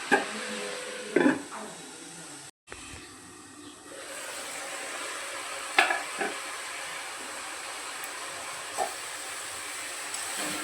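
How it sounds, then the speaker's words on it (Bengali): Red spinach with onion frying over high flame in a pan, a steady soft sizzle and hiss with a few brief stirring knocks, close and alone with no talk. "জলটা শুকানো পর্যন্ত ভেজে নেব।"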